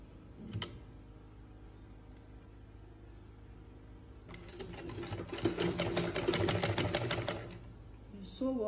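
A sewing machine stitches a scrunchie headband, its rapid needle clatter rising from a low hum midway and running for a few seconds before stopping, close and moderately loud.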